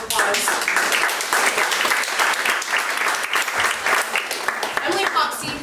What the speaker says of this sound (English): I wanted to give you a round of applause.